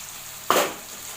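A spice paste hits a hot pan with ground fried onion, ginger and garlic, giving one sudden, close sizzling burst that fades over a moment against a quiet background.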